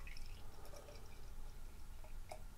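Triple IPA brewed with Motueka, Amarillo, Citra and Mosaic hops pours into a glass as a faint, steady liquid trickle with a few soft drips. The sound is quiet and close, and no one speaks.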